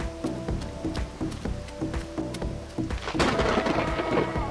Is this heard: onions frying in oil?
no